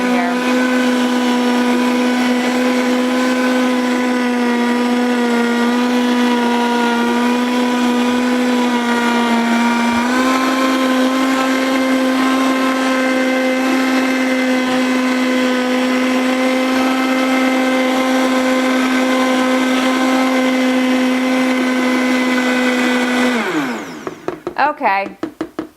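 A kitchen blender motor chopping chunky ingredients for a sweet dish, a loud steady whine that holds its pitch, steps up once partway, then winds down and stops near the end.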